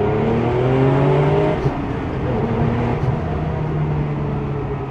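A RWB Porsche sports car engine hums with a rising, vacuum-cleaner-like whine, steady and close, with no one speaking.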